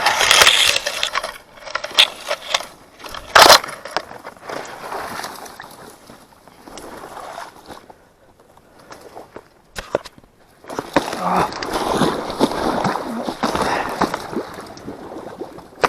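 Someone climbs out of icy water after breaking through thin ice, with loud bursts of splashing and crunching ice near the start and again toward the end, separated by a quieter stretch.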